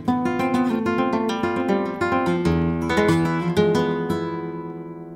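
A 1971 Manuel de la Chica flamenco guitar plays a soleá compás variation, with bright plucked notes and strummed chords in a rhythmic phrase that rings out close and clear, then fades at the end.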